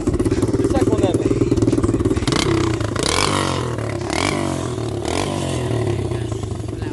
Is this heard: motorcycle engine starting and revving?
yes